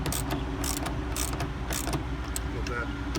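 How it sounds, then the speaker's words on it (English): A mini ratchet tightens a bolt on a truck trailer, giving a quick series of sharp clicking bursts in a rapid back-and-forth rhythm over a low steady rumble. "just put the handy dandy mini ratchet set back on there"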